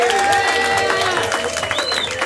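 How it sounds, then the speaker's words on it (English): A live event crowd claps and cheers in a dense, loud, steady wash of applause with whoops and a musical tone layered underneath. "Clap for everybody"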